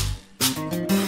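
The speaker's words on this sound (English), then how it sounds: "The shaker sounds like this." A handheld shaker gives two short, bright rattling bursts over soft musical accompaniment, with a quieter gap between them.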